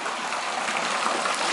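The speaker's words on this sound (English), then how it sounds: "It does also have a waterfall feature." Water from a backyard pool's waterfall feature splashes and gushes steadily, a constant hiss of falling water without pause for the brief moment.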